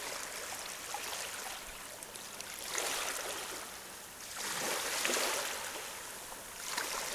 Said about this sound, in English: you can listen to the sea